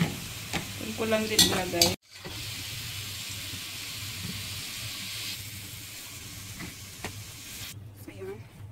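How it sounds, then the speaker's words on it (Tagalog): Chicken pieces for caldereta sizzle in a pan with a soft continuous frying hiss, with brief stirring and scraping, while someone speaks briefly at the start and end. "I-fry lang natin ng konti."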